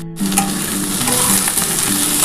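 Onion greens and potato sizzle loudly in a pan of hot oil while a small-fish curry is being cooked, a dense, steady frying hiss with faint stirring clinks and no voices.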